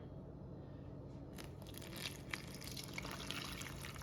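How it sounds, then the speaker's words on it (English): Soft trickle and splash of water being poured into a bowl for sourdough bread dough, quiet and close, with a few faint drips and clinks. "Next, I'm going to add 750 grams of water"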